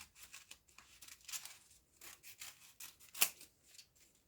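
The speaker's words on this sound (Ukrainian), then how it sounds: "Беремо ножиці, вирізаємо." Scissors snip through paper while cutting out a paper angel shape, a run of soft, scratchy rustling cuts with one sharper snip near the end, close and quiet.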